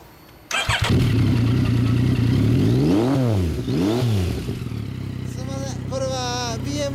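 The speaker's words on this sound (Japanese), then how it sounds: "エンジン音聞かせてもらえますか？" A 2015 BMW S1000R with an Akrapovic exhaust fires up abruptly, then gives two sharp rising-and-falling revs before settling into a rough idle, with voices talking near the end.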